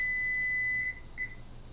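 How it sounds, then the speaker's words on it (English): A kitchen timer beeps during pie baking: one long high-pitched tone followed by two short beeps, clear and close in an otherwise quiet kitchen. "There's the timer."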